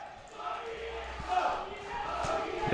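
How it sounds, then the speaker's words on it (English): DS Senanayake College supporters cheering at a schools rugby league match, a broad crowd roar rising and falling, with a few sharp thuds and a commentator's voice over it. "The DS Senanayake crowd finding their voice, backing their team."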